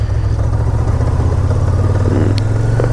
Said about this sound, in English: I have a hard time getting used to that sound, that ratchety stuff clanking around. I can't stand the dry clutch.